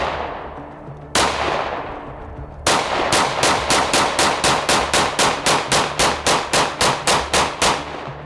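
A 5.7 pistol fired outdoors, two single loud shots followed by a rapid string of about fifteen evenly spaced shots, each sharp crack trailing a short echo.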